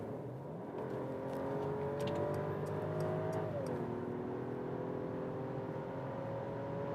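A Mercedes S500 AMG Line six-cylinder, V223 generation, accelerates hard on a German motorway in sports mode, heard from inside as a subdued engine note rising in pitch, with a gear shift midway and steady road and wind noise.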